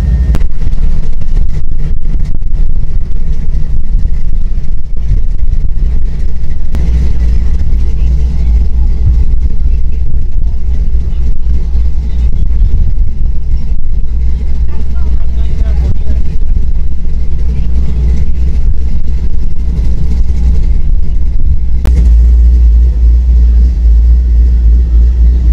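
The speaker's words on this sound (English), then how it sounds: "We are coming down one of the drag strips right over here" A car rolls down a drag strip at Indy, its engine giving a steady, loud, close low rumble throughout with some revving and no clear talk.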